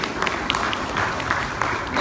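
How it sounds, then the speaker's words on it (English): Clapping audience at a U.S. Senate candidates' forum in Pineville, a steady, dense patter filling the room for about two seconds, with some voices mixed in. "let's give more round of applause to all the candidates"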